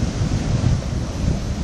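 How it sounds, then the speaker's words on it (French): Small waves slap against concrete tetrapods along a seawall at Port Est on Réunion, a steady close wash of surf mixed with wind noise on the microphone, with no talking. "il y avait quelques belles petites vagues qui claquaient."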